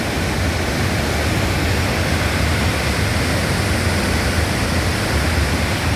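Barron Falls pours after heavy rain in a loud, unbroken roar of rushing water that fills the whole clip with no voices.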